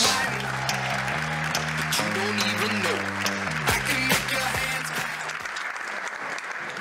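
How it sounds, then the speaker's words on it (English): An audience at a local dance competition show applauds the dancers and judges, loud sustained clapping mixed with a tonal musical backdrop and a voice speaking over it before the sound thins out at the end. "Can you make your hands clap for all our dancers and judges?"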